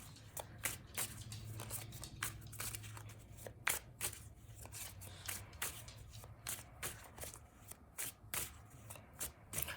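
Tarot cards shuffled by hand in quick, repeated crisp riffles and slaps, close and steady throughout with brief pauses between bursts.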